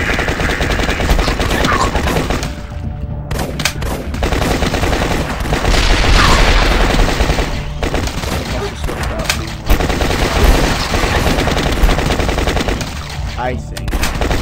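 Rapid gunfire from The Last Stand zombie game, dense bursts running almost continuously at a loud, steady level, with brief pauses between volleys.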